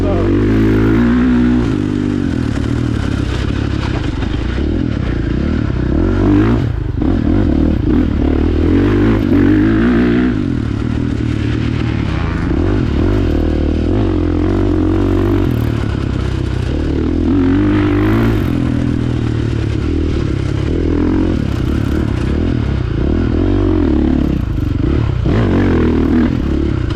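A 2022 KTM 450 SX-F Factory Edition dirt bike rides a motocross track, its engine droning loudly and steadily throughout with repeated throttle swells and rev changes, plus wind buffeting and clattering from the ride.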